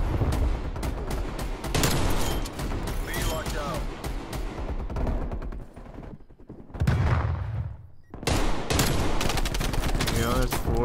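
Rapid automatic gunfire and explosions in the video game Call of Duty Black Ops Cold War, dense bursts of shooting with a short lull in the middle, loud and close, with speech in places.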